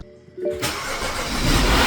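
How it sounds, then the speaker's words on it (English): A rebuilt engine in a 15-year-old BMW X5 cranks briefly, then catches and settles into a loud, steady running roar that builds slightly, close by with no talk. "I had to rebuild a new engine for this car and then install it and try to start it."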